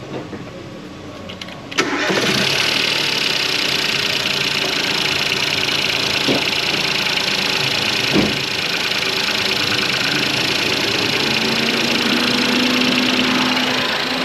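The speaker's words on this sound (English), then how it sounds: "All we're going to do is get on the key and hopefully, fingers crossed, it starts." A Ford Fiesta EcoBoost, just fitted with a new wet belt, cranks and fires, then settles into a steady, even idle that runs on close and continuous with no talking.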